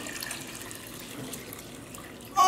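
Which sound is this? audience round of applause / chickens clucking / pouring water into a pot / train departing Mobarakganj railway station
pouring water into a pot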